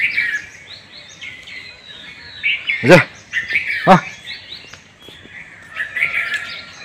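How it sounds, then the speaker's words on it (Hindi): Birds chirp and call at 5:15 in the early morning outdoors, with busy high trills throughout and a few sharp louder calls near the middle, while someone speaks briefly. "तो देखिए यहाँ पे पंछी का आवाज़ सुन सकते हैं"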